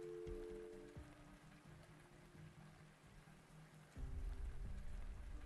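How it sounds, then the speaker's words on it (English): Rain falling in the video game Arknights, a soft continuous patter on surfaces, faint and steady, with low muffled thumps and a slight swell near the end. "Rain. I hate the rain more than anything."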